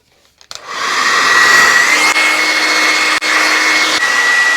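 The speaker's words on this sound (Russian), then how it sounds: "Сейчас я буду сушить волосы с помощью фена" A hair dryer drying hair clicks on after a brief quiet moment and then blows with a loud, steady whirring roar close by, with only slight dips in the airflow and no talking.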